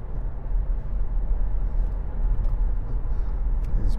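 A 2011 Audi S4 Avant with a 3.0 TFSI V6 and S tronic gearbox accelerates on a road. A loud, steady, deep engine rumble holds throughout with no talking.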